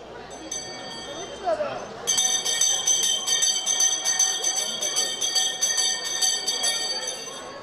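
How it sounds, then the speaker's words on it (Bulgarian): A school bell rings at a 2023 graduation send-off ceremony: after a short murmur of voices, a loud electric bell rings in rapid, continuous strikes for several seconds until the clip ends. "днес е часът, в който училищният звънец ще бие за последен път"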